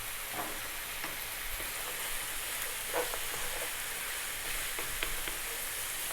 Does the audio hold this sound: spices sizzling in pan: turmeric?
yes